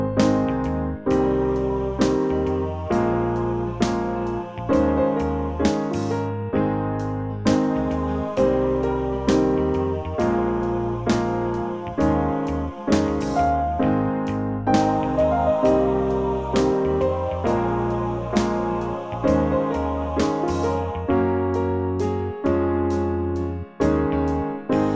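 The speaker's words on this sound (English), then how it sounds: "The section we'll be doing today sounds like this." Piano plays the chorus of a song with steady chords and a bass line moving in a regular rhythm, loud and close with no talking.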